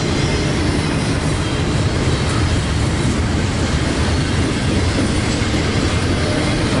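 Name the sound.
freight train with auto racks passing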